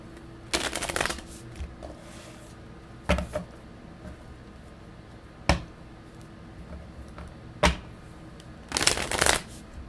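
Lumina tarot cards are shuffled in several brief, crisp riffling bursts separated by quieter pauses, close to the microphone.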